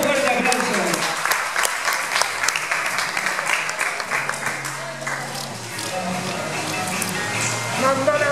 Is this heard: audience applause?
yes